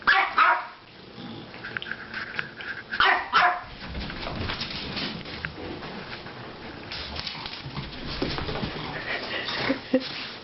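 Chihuahuas guarding toys bark in short, sharp bursts near the start and again around the middle, with quieter growling and shuffling between, and a person talking faintly in the background.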